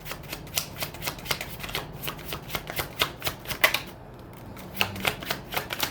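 Tarot cards are shuffled and drawn in quick, crisp riffling flutters, close and fairly soft, repeating in short bursts with a brief pause partway through.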